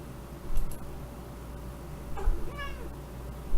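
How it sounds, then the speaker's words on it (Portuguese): A cat gives a couple of short meows, one near the start and a clearer, wavering one later, over a steady low room hum. "Gato miando."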